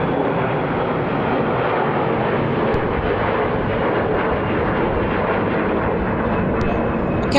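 A jet airplane roars steadily and loudly at Atlanta International Airport during take-off or landing, a broad continuous rumble holding for several seconds with no talk over it.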